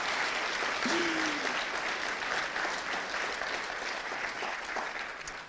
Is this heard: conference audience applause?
yes